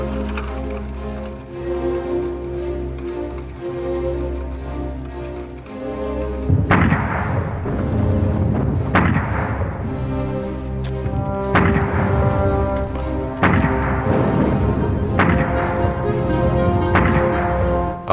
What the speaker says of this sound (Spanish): Empezó a desplegar más cañones.